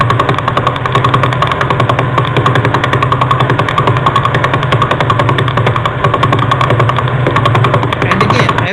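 Vela pulsar radio signal converted to sound: a dense, steady rapid pulsing buzz with fast repeating ticks, loud and continuous throughout, with no talking.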